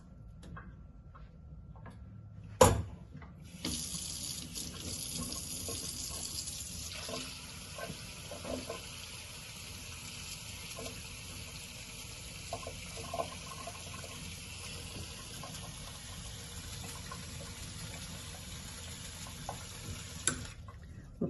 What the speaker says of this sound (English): Just run some more water on it when you're done.